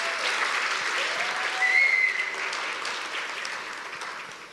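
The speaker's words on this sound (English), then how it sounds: "Big round of applause, please" A conference audience at PyCon Colombia applauding a keynote speaker, a dense, sustained round of clapping that peaks midway and slowly tapers off, with a faint whistle.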